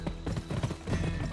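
Horse galloping in the Wild West video game GUN: a fast, steady run of close hoofbeats with slightly uneven rhythm, heard alone without voices.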